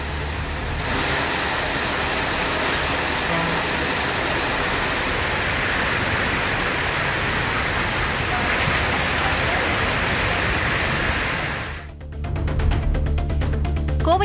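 Heavy rain driven by strong wind pours down steadily and loudly as a dense, continuous roar, then breaks off near the end into a different, choppier noise.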